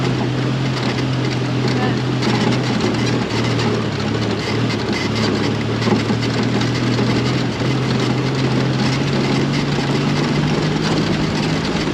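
A car's engine drones steadily in second gear during a driving lesson, a continuous low hum holding level for the whole stretch, with faint voices underneath.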